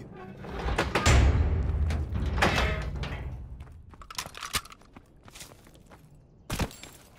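A door being opened in the Call of Duty WWII campaign, a heavy creaking, rumbling movement close by, followed by scattered thuds and footsteps.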